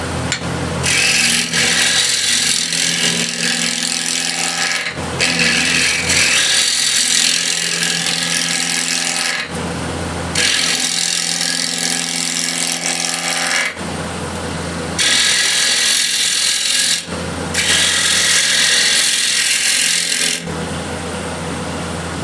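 A ball gouge cuts a walnut and cherry plate spinning on a wood lathe, giving loud, steady scraping and rasping passes several seconds long, broken by short pauses between cuts.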